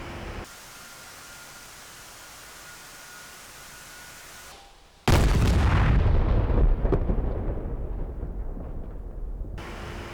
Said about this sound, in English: Seen the bomb coming. Boom!